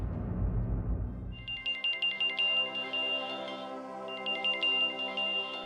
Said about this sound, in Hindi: शेखर का फोन? वो इस वक्त क्यों फोन कर रहा है?